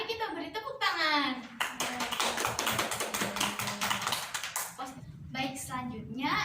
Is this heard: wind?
no